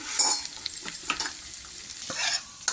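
A spoon stirs mutton bone soup thickened with cornflour in a pan, giving repeated close scraping and clinking strokes over a soft, steady sizzle.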